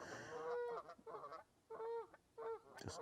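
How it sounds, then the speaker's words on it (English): Geese at a lake in the Lake District honk in a series of four or five nasal calls with short gaps between them, clear and fairly close. "Just those geese, amazing."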